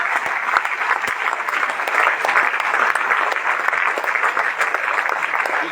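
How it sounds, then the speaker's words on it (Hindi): Audience at a DXN meeting applauding steadily and loudly, a dense sustained clapping from a large crowd with no talk over it. "अभी बताया था कैसे इनके लिए ताली बजाना है"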